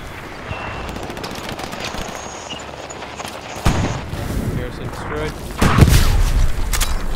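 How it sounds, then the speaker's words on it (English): Enemy bombs explode around a rifleman on the Foy map in Hell Let Loose: distant gunfire crackles, then two heavy, booming blasts land close, with voices heard at times. "Enemy bombs."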